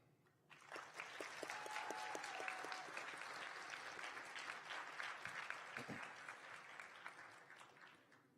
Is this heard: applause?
yes